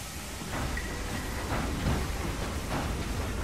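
A moving train in the video game Red Dead Redemption 2 gives a steady rolling rumble with soft hiss and faint rhythmic rail clatter, heard alone and fairly loud without any talk.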